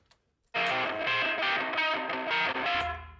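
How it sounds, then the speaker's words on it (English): A harsh, metallic synth lead through a ring modulator, reverb, amplifier, peak limiter and EQ, with clanging, inharmonic tones and a reverberant tail, playing a short phrase after a brief silence, loud and alone. "It's just a ring modulator, reverb, amplifier, peak limiter, and then EQ."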